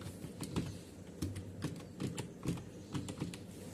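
Typing on a computer keyboard while filling in an Excel payment receipt, a quick irregular run of close, crisp key clicks alone with no talk.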